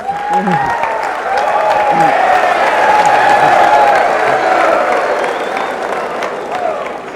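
An audience cheers and applauds for General Dave Waggy, the dean, at a speech to Air Force Academy cadets: a dense, sustained roar of clapping and shouting that swells through the middle and stays loud throughout.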